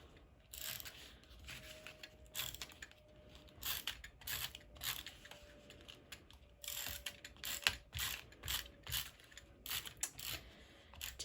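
An adhesive tape runner is rolled across a handmade holiday pop-up card in a series of soft, rhythmic ticking and clicking passes, close and faint, with a thin whirring tone running through the strokes.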